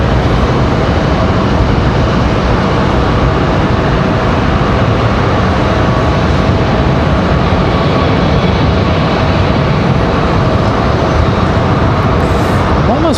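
JetBlue and Delta jets depart in quick succession from Raleigh Durham airport, a continuous loud engine roar filling the scene with a faint rising whine near the end.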